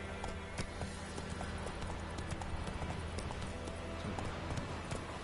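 In The Witcher 3 game, the horse Roach gallops at a steady pace, its rapid hoofbeats continuous over rushing wind and ambient noise, quiet in the mix.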